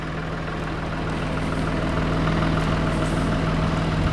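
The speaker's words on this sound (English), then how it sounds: "This is the Weiss four-wheeler." A 2006 four-wheeler ATV idles up close, a steady low engine rumble with an even, continuous throb and no other sounds over it.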